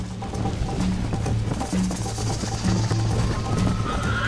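Horse hooves clip-clop steadily with occasional whinnies in Red Dead Redemption, an in-game Western horse moving at a steady pace, fairly loud and continuous over a game soundtrack.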